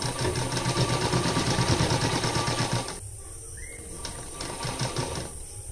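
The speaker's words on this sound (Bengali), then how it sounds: "এখানেও আমি 2 সুত মতো কাপড় গ্যাপ রেখে সেলাই করতে শুরু করব।" A sewing machine stitches a fabric strip for a hook placket, a steady fast mechanical whirr and needle chatter that stops abruptly midway, then a quieter pause and a brief restart.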